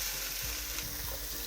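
Chayote sizzles steadily as it fries in a pot, with soft stirring scrapes moving through the dense, constant crackle, close and without any voices.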